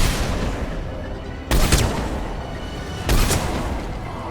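Gunfire in the video game Mass Effect 3 Legendary Edition: two loud, sharp bursts of shots about a second and a half apart, each standing out above a steady rumbling battle din.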